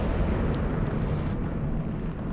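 A tank's ammo rack detonates in World of Tanks, a dense, loud, rumbling blast that roars steadily for a couple of seconds with no break.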